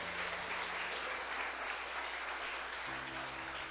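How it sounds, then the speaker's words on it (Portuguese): Church congregation at a Baptist service applauding steadily, a dense sustained wash of clapping throughout with faint musical tones underneath, including a low held chord near the end. "Você pode aplaudir o Senhor?"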